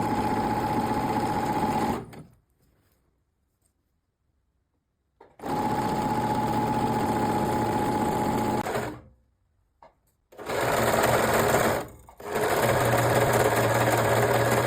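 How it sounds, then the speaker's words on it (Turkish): A domestic sewing machine stitches stretched fabric for trousers in three bursts of fast, steady whirring, separated by brief silent pauses, close and clear with no talking. "Kumaşımı esneterek dikiyorum."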